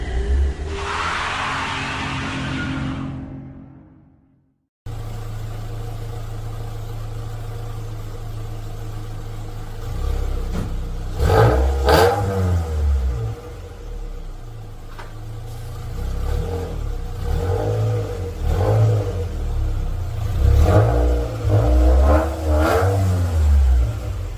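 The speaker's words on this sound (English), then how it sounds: "I'm going to warm the engine up" A Toyota MR2 Mk2 SW20 with a 3SGE engine runs steadily while warming up, a loud close idle with repeated revs rising and falling throughout, after a brief burst of noise and a short gap at the start.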